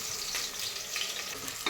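Onion sizzling and frying in a pan with whole spices like star anise and cinnamon, a steady close crackling hiss with light stirring scrapes.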